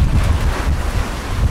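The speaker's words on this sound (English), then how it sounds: "It is frigging cold and windy." Heavy, cold stormy wind buffets the microphone outdoors by a koi pond with a constant low roar and rumble, loud and gusty throughout.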